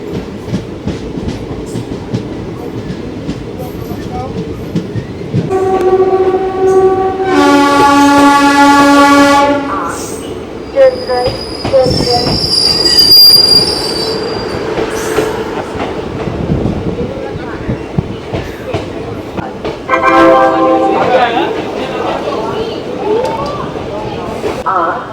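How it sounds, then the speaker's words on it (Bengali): A passenger train on the Kolkata to New Jalpaiguri route enters Bolpur Shantiniketan station, loud and close, with rhythmic wheel clatter, long blaring horn blasts and a rumbling carriage interior. "আমরা এখন বোলপুর শান্তিনিকেতন স্টেশন ঢুকছি"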